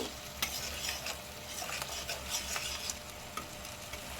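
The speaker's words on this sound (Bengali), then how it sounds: "আমি কাজু দিলাম আর ভিজানো ছোলা দিলাম হালকা একটু নাড়াচাড়া করে নেব" Cashews and soaked chickpeas stirred in a hot pan for a Bengali pumpkin chhokka, with a steady oily sizzle and a few sharp scraping strokes of a spatula close up.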